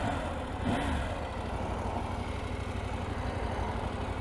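A KTM 790 Adventure motorcycle rides off, its engine a steady, close, continuous rumble that holds fairly even without sharp revving peaks.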